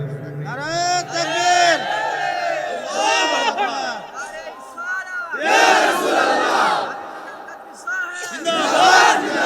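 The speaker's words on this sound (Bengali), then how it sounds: "দুইটা হাত উঠে আল্লাহরে দেখে আর জবানটা খুলে জোরে একটা তাকবীর দাও জোরে" A large crowd bursts into loud collective chants of takbir, several swelling cries in succession with brief lulls between them, voices massed and echoing in an open gathering.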